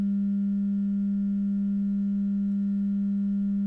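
A pure sine tone from a synthesizer oscillator hard-synced to a Q125 module, holding one steady low pitch with faint overtones, constant and unbroken throughout.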